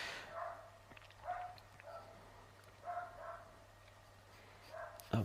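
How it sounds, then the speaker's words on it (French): A dog barks in agitated bursts, a few short yaps spaced out over several seconds, fairly distant and faint against a quiet room, with a sharper knock near the end. "il y a un chien qui s'énerve"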